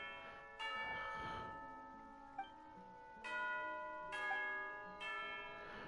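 Several loud chimes from a signal bell in Genshin Impact, calling tea time. They ring out with long, shimmering tones that decay slowly, with no talk over them.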